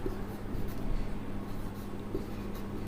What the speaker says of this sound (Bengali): আসো আমি এই সূত্রটি লিখছি।